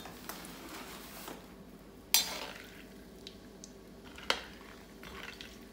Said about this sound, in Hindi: ये आधा किलो से थोड़े से कम बादाम है, इसे हम डाल देते हैं और एक बार इसे अच्छी तरह चला लेते हैं